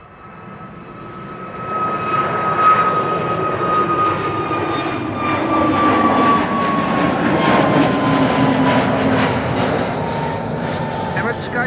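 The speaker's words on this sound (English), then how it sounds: "Here it is, the A321neo going to Edinburgh in Scotland" An Airbus A321neo jet airliner bound for Edinburgh takes off at Amsterdam Schiphol Airport, a loud, steady engine roar with a high whine that slowly falls in pitch, holding near and strong throughout.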